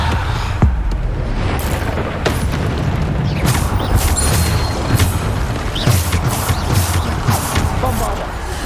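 Bombarda explosion spells cast in Hogwarts Legacy, repeated heavy booms and crashing impacts amid busy combat clatter, loud and close throughout.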